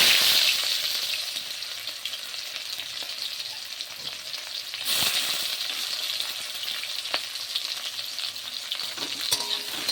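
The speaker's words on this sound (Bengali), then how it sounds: "এবার দিয়ে দেবো পেঁয়াজ" Chopped onion sizzles and crackles steadily in hot oil in a wok, over black cumin seeds already tempering for a taro stolon curry. The frying is close and continuous, with a few sharp stirring clatters and no talk.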